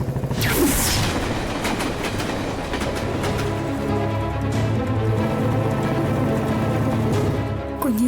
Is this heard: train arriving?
yes